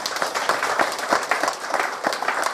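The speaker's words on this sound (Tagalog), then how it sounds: "pumalakpak sa Panginoon." A church fellowship congregation claps together in praise of the Lord, a steady patter of many hands lasting a few seconds without pause.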